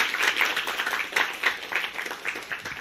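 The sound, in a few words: congregation applause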